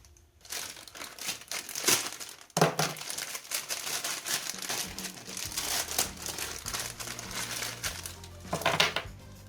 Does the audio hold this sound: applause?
no